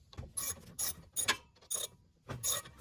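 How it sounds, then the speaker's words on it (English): A hand ratchet breaks loose 7/16 bolts on the drive shaft of a 1979 Pontiac Trans Am with a GM 10 bolt rear end, about six close, loud clicking ratchet bursts in uneven rhythm. "Break these bolts loose, 7/16."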